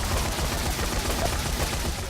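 Gunfire in the video game Dead Rising 3 comes as a dense, continuous barrage of rapid shots, loud and unbroken for the whole stretch, with no talking.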